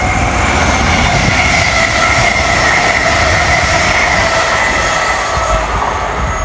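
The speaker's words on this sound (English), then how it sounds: "Next to fly through the station for Greater Anglia" A Greater Anglia train rushes through a station at speed, a loud, steady roar of wheels on rails with a high squealing tone running throughout, close and continuous.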